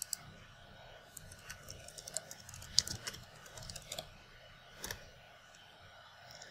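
Quiet keystrokes tap out a short entry on a computer keyboard in irregular bursts, close but faint, with a few sharper clicks between pauses and no talking.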